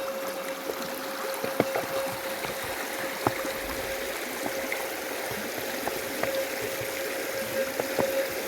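Creek water flowing among rocks in French Gulch, California: a steady, close, rushing wash that runs continuously, with scattered small clicks and knocks.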